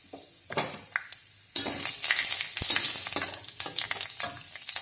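Five-spice seeds and bay leaves sizzling in hot oil already used to fry fish, with a loud crackling sizzle that swells after a quieter start, punctuated by sharp scrapes and clinks of a spoon against the pan.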